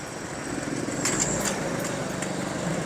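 A motorcycle engine drones steadily while riding along a motorway near Karachi, a buzzing, high-pitched hum with light wind noise, even and continuous.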